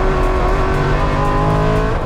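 Mitsubishi Evo time attack car with a freshly built engine, driven hard on a race track, its loud sustained engine note droning steadily throughout at close range.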